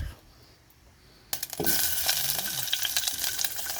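Ginger dropped into a hot pan for malunggay soup: a quiet, faintly crackling start, then a sudden clatter and a loud, steady sizzle that continues to the end.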